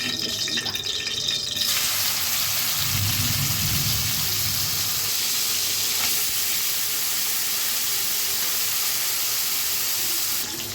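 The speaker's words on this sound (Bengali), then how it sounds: "মাছটাকে প্রথমে একটু হালকা করে ভেজে নেব একটু তেল দিয়ে দিলাম" Small freshwater fish fry lightly in a little oil, a steady hissing sizzle that swells after a brief opening, continuous and close with a faint low rumble underneath.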